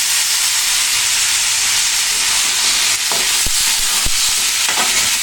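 Flat beans and new potatoes fry loudly in a pan for a tengra fish curry, a dense continuous sizzle broken by several scraping stir strokes in the second half.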